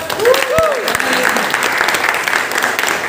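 A crowd at a car inauguration gives a big round of applause for Rajith Kumar, a dense, steady clapping that holds loud for about three seconds, with a brief voice rising over it near the start.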